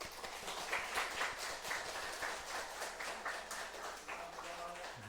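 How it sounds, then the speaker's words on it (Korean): Church congregation at a Sunday worship service claps for the youth group and choir, a steady patter of many hands filling the room at moderate distance, with some voices mixed in. "박수 한번"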